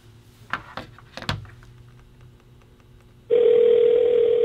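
A few soft clicks and taps, then a steady electronic telephone ringing tone begins and holds loudly to the end.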